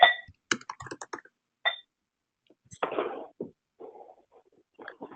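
Clicks of a computer keyboard as an address is typed into a real estate comps database, a few quick taps and short bursts in an otherwise quiet room with soft mouth noises.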